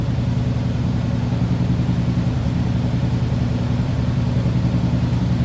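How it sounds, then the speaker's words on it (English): A 1955 Buick Super Convertible idles, heard from the rear at the exhaust: a steady, close, low rumbling burble with an even pulsing rhythm and no talk. "Slip around to the back so you can hear it run."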